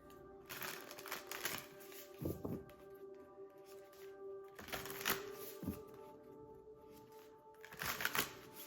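Cards being shuffled and drawn, soft papery riffles and flicks in several short bursts with quiet gaps between, close and fairly faint.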